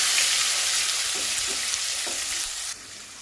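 Ginger garlic paste and spices fry in a hot pan with a steady, bright sizzle and a few soft stirring scrapes, ending in a sudden drop to quieter sizzling.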